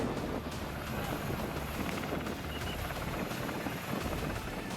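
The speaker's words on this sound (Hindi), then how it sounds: "समंदर किनारे कई हेलीकॉप्टर उड़ रहे हैं।" Several military helicopters flying over a seashore during an air-drop exercise, a dense continuous rotor roar with steady whirring and wind noise, loud and unbroken.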